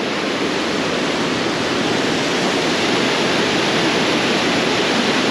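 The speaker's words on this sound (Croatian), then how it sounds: "Voda je nadošla, proljeće pa se snjegovi tope u planinama." A loud, continuous roar of the Vrbas river swollen by spring snowmelt, fast-flowing water full and unbroken, close by with no talking.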